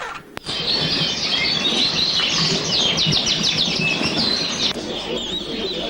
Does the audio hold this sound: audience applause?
no